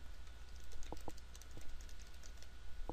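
Keystrokes on a computer keyboard while typing a table heading in Word 2010, a run of quick, light taps with a few sharper clicks, close and fairly quiet over a faint steady hum.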